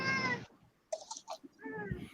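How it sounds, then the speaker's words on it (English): A cat lets out a drawn-out meow at the start, followed by quieter rustles and clicks, then another softer meow. "That's my cat."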